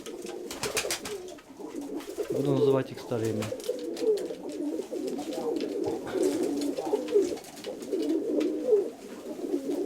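Pigeons coo in low, throaty rolls close by, repeating throughout while someone talks over them.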